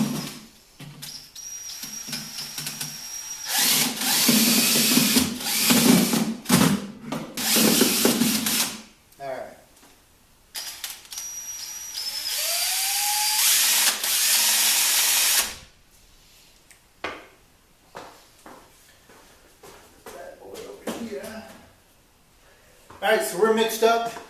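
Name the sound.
paint mixer on a drill agitating prodiamine lawn chemical mix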